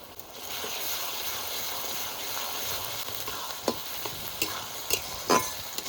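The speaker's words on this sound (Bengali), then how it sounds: "পেঁয়াজ একটু ভালো করে ভেজে নিয়েছি এবার আদা রসুন দিয়ে দেবো রসুন বাটা" Onions frying with ginger and garlic paste added, for a goat curry with young jackfruit: a steady close sizzle with a few sharp stirring clicks and scrapes toward the end.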